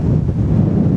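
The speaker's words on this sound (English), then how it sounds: "It is brutally windy out here." Brutal wind gusts roar close against the microphone outdoors at a windswept site with wind-carved formations, a loud, low, continuous buffeting for a brief moment.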